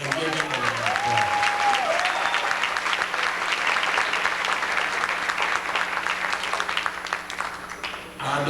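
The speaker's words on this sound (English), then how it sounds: "giving them a round of applause" Audience applause at a jazz hall of fame gala, a dense, sustained clapping from a large crowd that fades near the end, with a voice briefly audible at the start.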